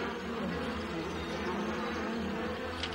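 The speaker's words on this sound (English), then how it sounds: "Q-Ball's new sonic insect repeller." A cartoon sonic insect repeller gives off a steady, fairly quiet electronic buzz like a swarm of insects, droning evenly with no breaks from start to finish.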